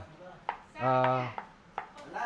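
A knife chops ingredients for sautéed mung beans with a few sparse, faint chops on a board, and a voice sounds briefly between them.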